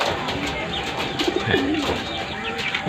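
Pigeons coo softly and repeatedly after landing at the trap door of a loft, their low murmuring calls layered over steady outdoor background noise.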